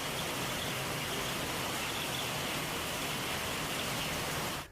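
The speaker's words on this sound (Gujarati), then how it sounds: "અમદાવાદના કેટલાક વિસ્તારોમાં વરસાદ વરસી રહ્યો છે" Steady, dense rainfall in Gujarat hissing evenly throughout, a constant wash of drops with no voices or breaks.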